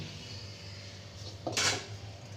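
A brief metallic clatter of a pot of boiled soybean chunks being lifted off the stove and set down rings out once against a quiet kitchen hum.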